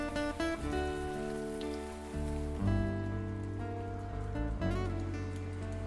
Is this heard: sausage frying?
no